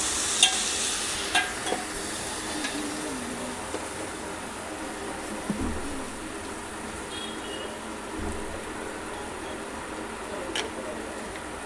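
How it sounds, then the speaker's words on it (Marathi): A spoon stirs lentil sambar with spices and salt in a pot, giving a steady wet scraping and swishing over a faint sizzle throughout, close and continuous, with a few clinks and no talk. "एकत्र हलवून घेऊया"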